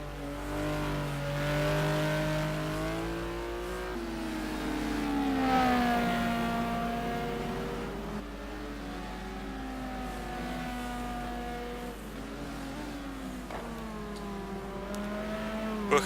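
Race car engines from the simGT Challenge sim racing game at Phakisa during an endurance race pit stop, a continuous layered drone of several engines with rising and falling pitch as cars pass, steady and fairly loud throughout.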